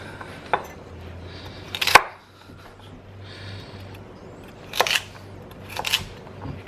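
Baby carrots are chopped on a cutting board with a HOSHANHO Loong Series kitchen knife, a few sharp knocks scattered between quiet pauses, close and crisp with no talk.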